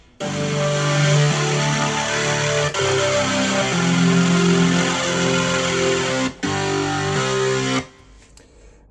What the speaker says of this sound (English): Heavier distortion.